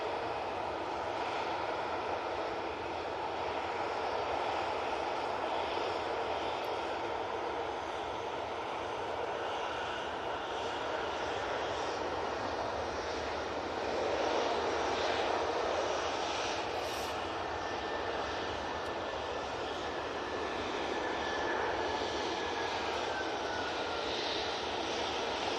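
An Ethiopian airliner on approach to Manchester Airport produces a sustained jet engine rumble with a faint whine, swelling slightly midway and lasting the whole stretch without speech.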